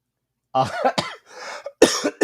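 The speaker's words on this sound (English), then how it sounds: "I still have that fucking cough from weeks ago" A man with a cough lingering for weeks hacks through several harsh, close coughing bursts in quick succession, with short pauses between them and a final cluster of coughs.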